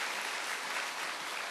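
A church congregation bursts into applause after a sermon, dense steady clapping filling the room with no break.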